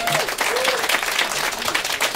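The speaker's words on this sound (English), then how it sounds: "Give him a round of applause for that." A studio audience at a live acoustic music session breaks into brisk applause and claps, close and fairly loud, lasting a couple of seconds with faint voices mixed in.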